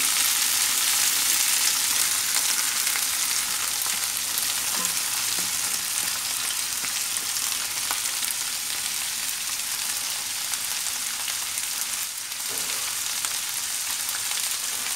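Sweet corn stir-frying with scallions in a pan makes a loud, continuous hiss and crackle, close and unbroken for the whole stretch with a brief stirring scrape midway; no talking.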